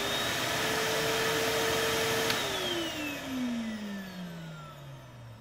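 A Henry HVR160 compact canister vacuum cleaner whirs steadily at close range, then its motor tone winds down and fades as it is switched off, with no talking.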